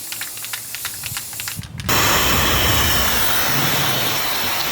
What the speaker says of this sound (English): I've done 1 coat of the Rust-Oleum on the face, so I'm doing the second one